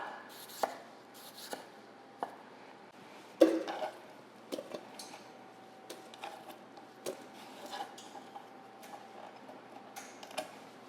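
Sharp knife chopping Yukon Gold potatoes on a cutting board, peels left on: a steady series of close, crisp cutting taps at an uneven rhythm, with a faint steady hum running behind.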